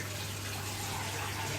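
Tap water runs steadily into a sink while a dish is rinsed out, a soft continuous hiss with a low hum underneath, close and unbroken for the whole moment.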